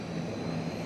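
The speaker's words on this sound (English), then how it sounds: "you can hear the jets are fired up" The jet engines of Snowbirds aircraft run at an airport, giving off a continuous, fairly loud rumbling roar with a steady low hum and no talk.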